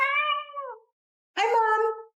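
A cat meows twice, two clear, drawn-out calls separated by a short silence, close and loud with nothing else around them.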